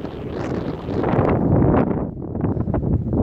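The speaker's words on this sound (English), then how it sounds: "Shame I chose a windy day" Strong wind buffets the microphone outside an abandoned house in Bulgaria, in a loud, continuous rumbling roar that swells and eases.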